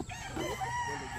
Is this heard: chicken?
yes